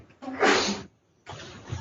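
A single sharp sneeze bursts out close by, followed after a brief pause by a short low murmur.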